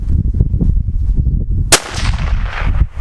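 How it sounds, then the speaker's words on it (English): A single loud, sharp 6.5 Creedmoor rifle shot cracks out at a shooting range partway through, preceded by low rumbling handling noise and followed by a decaying echo. "I'm not shooting as good as the gun is capable"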